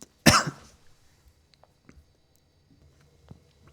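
A person gives one sharp, close cough, followed by faint scattered small noises and near silence.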